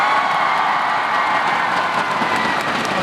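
A live concert audience in Hong Kong applauds a singer, a steady, dense wash of clapping and light cheering that holds at an even loudness from start to finish.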